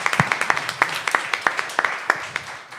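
A small audience at a startup pitch event claps after a presentation, a sparse scattering of distinct hand claps from a few nearby people, fairly loud and irregular, with a murmur of voices beneath.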